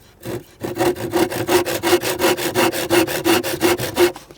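A hand saw rasps through wood in a steady back-and-forth rhythm, about a dozen close, loud strokes in quick succession.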